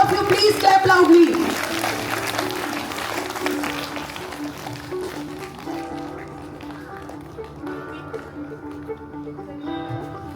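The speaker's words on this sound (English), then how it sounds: "All of you, please clap loudly." An audience at a school Founders Day award ceremony applauds a Best Student Award winner, with dense clapping loudest at first that thins and fades over several seconds as a tonal musical background carries on.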